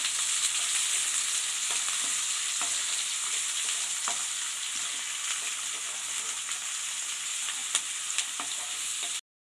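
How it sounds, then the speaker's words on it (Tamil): Garlic and onion sauté in a pan for a black chana kara kulambu, giving a steady, close sizzle with the occasional scrape of a stirring spoon, unbroken for about nine seconds before stopping abruptly. "அதையும் இதில் சேர்த்துக்கலாம். நல்லா வதக்கிக்கலாம்."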